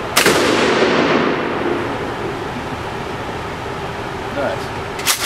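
A shotgun fired at an outdoor shooting range booms once, loud and close, with a long decaying roar; a second sharp report starts right at the end.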